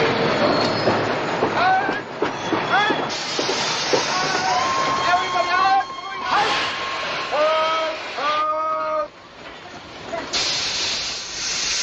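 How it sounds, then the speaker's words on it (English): Trains approach on a railway track in a 1951 war film, with loud hissing steam and rising squeals of wheels on rails, overlaid by shouting voices and dramatic sound. "Our trains are coming!"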